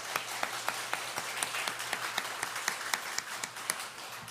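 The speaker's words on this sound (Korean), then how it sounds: "늘 승리하라고 박수 한번 치겠습니다" Church congregation clapping together during a Sunday worship service, a steady sustained patter of many hands at moderate distance with a faint low hum beneath, no talking.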